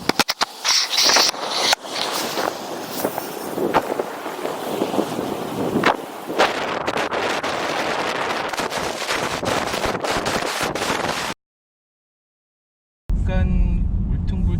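A new Bentley Flying Spur is driving near Monaco with a window open, and a loud, continuous rush of wind and road noise fills the cabin. It cuts off abruptly, and brief talking follows.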